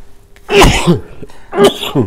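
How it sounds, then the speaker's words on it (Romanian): Two sneezes from a man during a studio conversation, a sharp burst followed about a second later by a second explosive burst, close and loud. "M-a apucat strănutul când am auzit."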